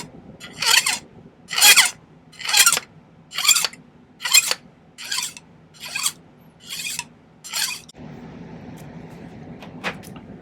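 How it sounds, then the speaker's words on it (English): A hand file rasps across a piece of silver held in a miter vise jig, with nine or ten evenly paced strokes close up, after which only faint shop noise remains. "just file it there."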